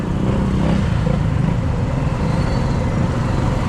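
A motorcycle passes along a crowded street during a town fiesta in Tayabas City, its engine a steady, loud drone blended with surrounding traffic and street noise.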